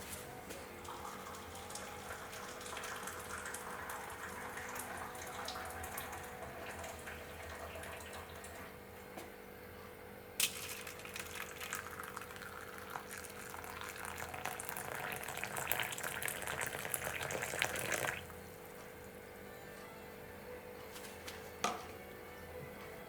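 A continuous rush of boiling water poured into a bowl, with a few clinks and bumps over a low background hum.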